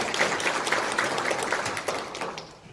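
Applause at a Hwaseong citizens' regional meeting for the Hwasan-dong community chief, a steady patter of clapping from a modest seated group in a hall that tapers off near the end.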